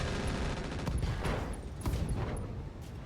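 Mech weapons fire in the BattleTech game RogueTech, a steady barrage of rapid impacts and booms with periodic high metallic pings, sustained and fairly loud.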